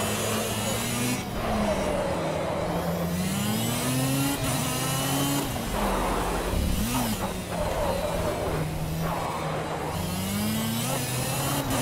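Race car engine in the video game Project Cars revs and shifts through gears continuously, loud and close, rising and falling in pitch with no talk over it.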